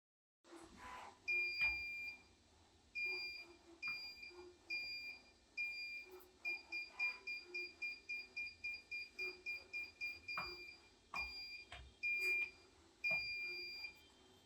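Repeated electronic beeps from an ultrasonic parking distance alert buzzer on a robotics project, at first spaced apart, then a quick steady run of short pulses, then slower again, over faint background noise.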